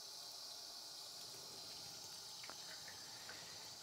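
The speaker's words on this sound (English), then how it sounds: "The water's coming up, as you can see." Water fills a film negative washer in a steady, continuous hiss and rush of flowing water, with a few faint bubbling gurgles partway through.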